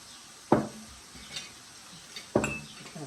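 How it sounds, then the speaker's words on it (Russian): Apricot jam is ladled from a pot into jars, with two sharp metallic clinks of the ladle against the rim about two seconds apart. Each clink is close and followed by a short scrape, with no voices. "И теперь мы его разольем по баночкам."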